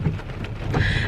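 Heavy rain pours down steadily on a rainy day, a dense, loud, continuous hiss and patter with no voices over it.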